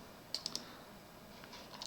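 A computer mouse clicks a few times, faint and close: a quick run of three sharp clicks, a pause, then another click or two near the end.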